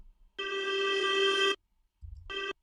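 A sustained electronic tone from a music sample sounds for about a second and stops abruptly with no reverb tail, followed after a gap by a shorter identical burst.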